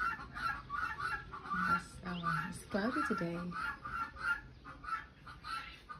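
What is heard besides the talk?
chickens clucking outside hostel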